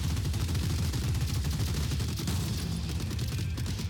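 Sniper fire in the robot strategy game Gladiabots, a dense, continuous barrage of loud, rapid shots and impacts packed tightly together throughout.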